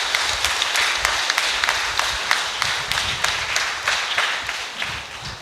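A Palm Sunday church congregation claps together to thank the priest, a dense, continuous round of applause with sharp individual hand claps, fairly close and steady for several seconds.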